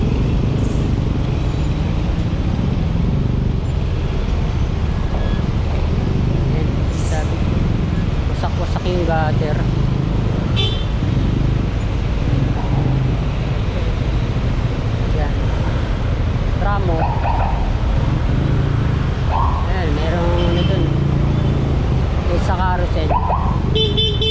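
Heavy Saturday traffic crawls near the EDSA approach by NAIA in Manila. A dense, continuous roadway roar is broken by repeated short horn toots and honks scattered throughout, and a voice talks intermittently over the noise.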